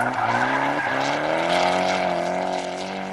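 A drifting car slides sideways with tires squealing over a loud, sustained engine roar, with a couple of quick screeching bursts near the start, all close and prominent with no speech.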